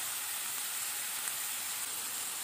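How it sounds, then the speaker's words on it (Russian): Vegetables with a little seasoning and homemade ketchup fry in a pan, a soft, even, low-level sizzle that continues without pause. "И опять же обжариваем это примерно около 2 минут."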